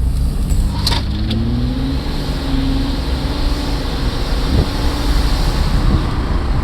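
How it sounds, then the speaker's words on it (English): A 1992 GMC Typhoon builds boost at a standstill, then launches at full throttle in drive. A loud, continuous engine roar sits under heavy rumbling wind noise for several seconds, with no voices. "I'm gonna build about 3 or 4 pounds of boost at a standstill, and then I'm going to give it full throttle"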